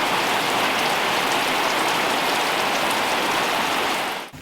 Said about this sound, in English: it started raining, and it rained and rained and rained